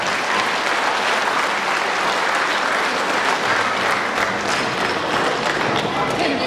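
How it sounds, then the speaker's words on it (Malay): Audience applause at an UMNO and Barisan Nasional gathering in Malaysia, steady, dense clapping from a crowd that holds at an even, fairly loud level throughout. "Kita beri tepukan kepada beliau."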